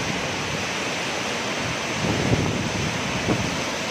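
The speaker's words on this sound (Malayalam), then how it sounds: "ആ രണ്ട് സൈഡിലുള്ള പാറക്കെട്ടിൻ്റെ നടുപ്പു നിന്നാണ് ഈയൊരു വെള്ളച്ചാട്ടം വരുന്നത്." Aruvikuzhy waterfall near Kozhencherry, Pathanamthitta, dropping about 100 feet between rock walls, a steady broad roar of falling water, loud and constant with slight surges.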